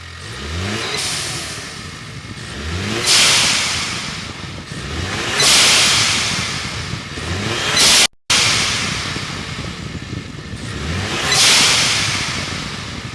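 A 2021+ Ford Bronco fitted with a Corsa performance air intake, revved repeatedly: four loud rising blips roughly every two and a half seconds, each with a whooshing intake rush, settling back to idle between them.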